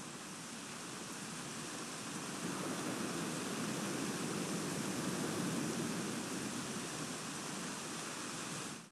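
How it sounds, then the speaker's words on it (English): Recorded rain mixed with ocean waves plays as a steady, dense wash of hiss and rushing surf, swelling slightly in the middle before cutting off abruptly, with no voices. "I'm going to put some rain together with some waves"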